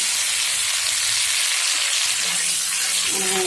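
Chopped onions dropped into a hot wok, frying with a loud, dense, continuous sizzle close by, with brief softer moments of stirring.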